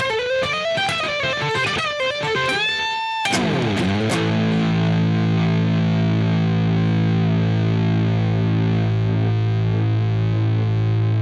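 Electric guitar through four drive pedals stacked in a row: a few quick distorted notes, then a heavy saturated chord rings out and sustains loud and thick until the end.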